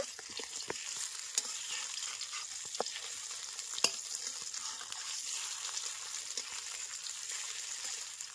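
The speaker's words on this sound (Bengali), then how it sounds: "এবারে এগুলোকে আমি তেলের মধ্যে ছেড়ে দেব। খুব বেশি ভাজবো না, হালকা করে এপিড ওপিড করে একটু ভেজে নেব।" Duck eggs and cauliflower fry lightly in hot mustard oil in a wok, giving a continuous soft sizzle with scattered sharp pops and crackles, no voices over it.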